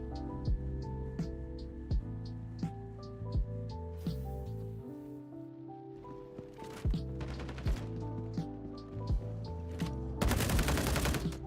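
Weapon fire in the video game Star Citizen during a PVP fight: rapid sharp shots crack out in bursts over a musical backing, with a louder dense volley near the end.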